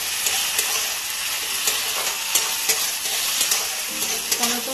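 Tomato and onion stir-fry in hot oil for a tilapia curry, a dense bright sizzle with regular spatula scrapes against the pan, close-up and fairly loud, no talking.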